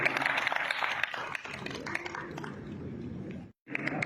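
Clapping from an audience at a roadside foundation-stone ceremony rises as a dense, steady patter, briefly cut off near the end, while a speaker talks through a loudspeaker.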